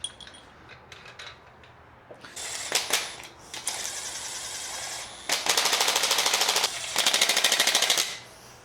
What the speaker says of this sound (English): This is the lowest setting on this little impact, quarter-inch impact gun